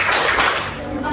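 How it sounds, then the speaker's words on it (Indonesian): A classroom group clapping a short rhythmic salute routine for a classmate, quick hand claps close by with voices running over them. "Kita berikan tepuk salut untuk si Yolanda."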